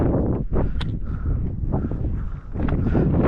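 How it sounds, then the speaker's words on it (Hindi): Cold mountain wind buffets the microphone in gusty, roaring bursts near a lake on a solo camping trek, loud and close with rustling. "ठंडी हवा चलना शुरू हो गया।"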